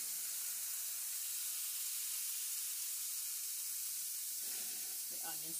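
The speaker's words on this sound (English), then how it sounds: "Look at that sizzle." Lamb and chicken souvlaki with vegetables sizzle on a barbecue grill, a steady hiss filling the clip close up, with a brief voice near the end.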